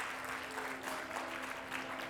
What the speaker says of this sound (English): please give them another round of applause to all of our recipients